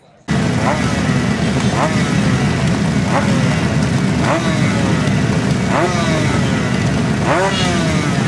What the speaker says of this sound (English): Suzuki RG right in front of me, sounding good